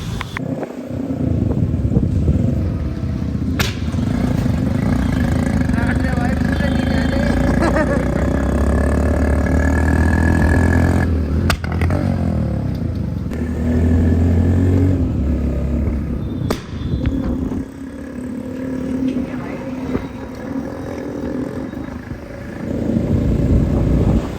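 A vehicle engine, just fitted with upgraded tyres, idles and revs close by in a loud, continuous rumble, with a few sharp knocks and brief voices underneath.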